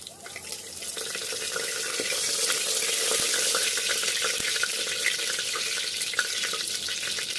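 Kasuri methi and a bay leaf sizzle in hot oil, a bright continuous hiss that swells after the first second and stays steady, with a few light clinks and no talking.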